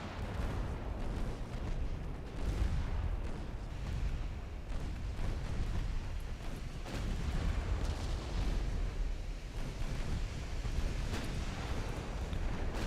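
Heavy battleship guns boom in a steady, dense rumble from the naval warfare game Ultimate Admiral Dreadnoughts, with repeated deep blasts and roaring low noise filling the whole stretch and no one talking.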